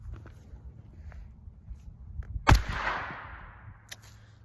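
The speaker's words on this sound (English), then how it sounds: "we will put a bullet through here, see what the 9mm does" A single 9mm shot from a Taurus G3 pistol fired through a pillow, one sharp close report followed by a short rolling echo that decays, with quiet outdoor background before and after.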